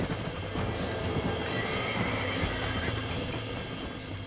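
Horse hooves clip-clopping at a steady run in Red Dead Redemption, with an occasional whinny over a dense, continuous game soundscape, fairly close and alone without talk.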